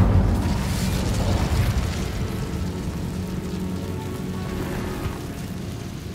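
A roaring Incendio fire spell blast from Hogwarts Legacy bursts loudly at the start, then settles into a sustained crackling rush of flame that fades slowly, with no one talking.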